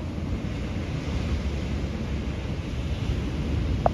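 Strong ocean waves roar continuously, a dense, loud wash of surf mixed with gusting wind noise on the microphone, with no clear breaks.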